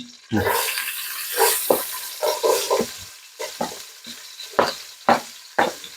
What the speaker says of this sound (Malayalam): ഇനി സോട്ട് ചെയ്യണം.